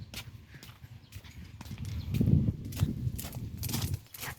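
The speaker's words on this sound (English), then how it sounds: "Here's the horse." A horse on a host farm in Gasuo, South Korea, moves close by with soft hoof clops and shuffling steps, with no voices heard.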